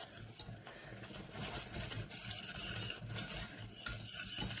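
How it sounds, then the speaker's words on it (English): Flour being whisked in a pan while making a roux for homemade lasagna: quick, repeated scraping and clinking strokes of a whisk against the pan, close and continuous, with a faint sizzle beneath. "And then just give those a whisk together."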